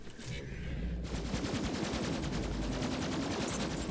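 Rapid automatic gunfire in Borderlands 3, a steady fast stream of shots that runs without a break through loud combat noise, starting after a brief swoosh.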